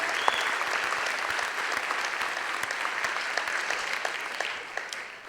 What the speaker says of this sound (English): can you please join me in providing them with one more round of applause